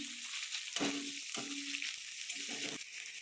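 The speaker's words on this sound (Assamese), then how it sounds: "অলপ ৰঙচুৱা হোৱাকৈ ভাজিম" Onions fry in oil for a chicken liver curry, a continuous soft sizzle broken by several stirring scrapes and spoon knocks against the pan.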